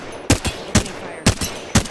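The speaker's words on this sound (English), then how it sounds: "Opening fire." Four evenly spaced gunshots from a battle royale video game weapon, each a sharp, loud crack with a short echo, firing in a steady rhythm of about two shots per second.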